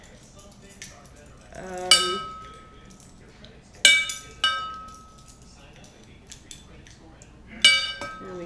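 Spoon clinking against a glass bowl as a teaspoon of brown sugar is added for activating yeast, a few sharp bright clinks spaced apart, close and clear over quiet room tone with a brief spoken word.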